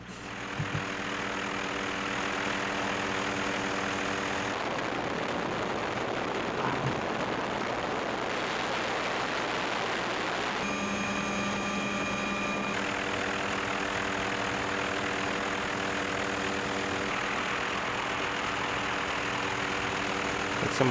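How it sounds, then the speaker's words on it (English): A helicopter drones steadily overhead, a continuous low engine roar with a whining tone that holds for the full stretch, loud and unbroken with no talking. "The audio is just a helicopter sound, but we'll put it in because it's cool."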